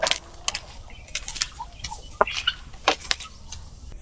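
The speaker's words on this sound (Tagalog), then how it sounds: "Pati yung ating native na manok, kumakain din." Native chickens cluck in short, scattered bursts while feeding on a small farm, with a few sharper calls standing out over a low, steady background.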